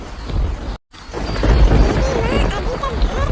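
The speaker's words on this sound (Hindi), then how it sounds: "कितनी देर हो गई और ऊपर से बारिश भी आ रही है।" Rain and rumbling thunder in a Hindi cartoon, a loud continuous downpour with a deep low rumble that cuts out briefly near the start and then swells back, steady and close throughout.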